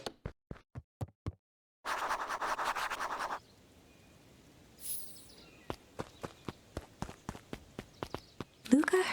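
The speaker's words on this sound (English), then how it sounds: "Luca heard a group of footsteps approaching." Stylized footsteps of a group approaching in the video game Beacon Pines: quick clicking steps, then a burst of rustling noise, then a longer steady run of soft evenly spaced steps that ends in a louder shuffle.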